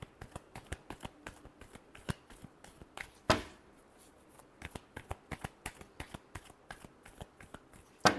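Tarot cards are shuffled in a crisp series of riffling snaps and slaps, close and clear, with irregular rhythm and a couple of louder bursts; no talking.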